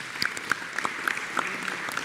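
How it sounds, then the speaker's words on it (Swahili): Applause from an audience at a Kikuyu-language church service, heard as a brief patch of scattered hand claps, moderately faint, with no voices over it. "Wapigieni makofi tafadhali."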